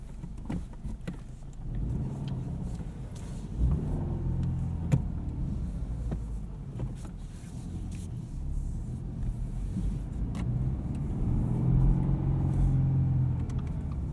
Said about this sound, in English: You can hear in the parking lot just a little bit of boxer rumble under the right foot.